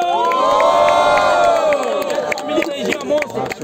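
A large crowd at a rap battle cheers and shouts loudly and steadily, with whoops and scattered claps. The roar is close and fills the whole moment.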